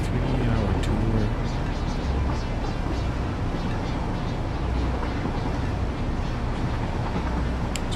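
A train rolls along its tracks in the video game Satisfactory, a steady, dense mechanical rumble with a continuous broadband rush that holds at constant loudness throughout, with no talk over it.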